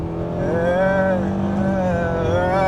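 2021 Nissan Rogue compact SUV under full-throttle acceleration, its CVT giving a steady droning groan with a slowly wavering pitch, loud and close throughout.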